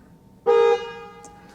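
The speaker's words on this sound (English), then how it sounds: "So that's what happens when you honk the horn." A Tesla car horn, triggered remotely from the phone app, gives a single short honk of about a third of a second. It is clear and fairly close, then fades into quiet.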